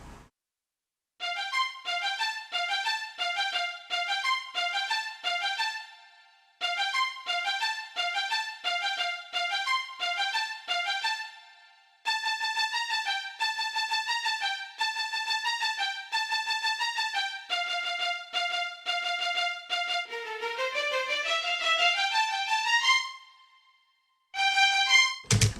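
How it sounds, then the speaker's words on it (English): Violin main part from the theme, rendered as a bright, thin synthesized line, plays repeated quick note patterns in several phrases separated by short pauses, alone and clear, ending with a rising run. "this is a violin, the main part of the violin"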